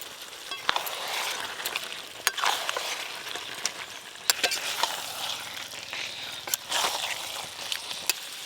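Mutton half-browned in a pan with freshly ground spice paste, a low crackling sizzle broken by sharp scrapes and clacks of a stirring spoon against the metal, quiet and close with no talking.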